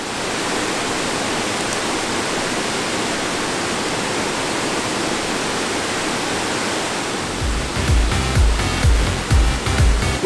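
Kuang Si waterfall near Luang Prabang, Laos, rushes as a loud, steady broadband roar throughout, with a few low thumps and bumps of handling noise near the end.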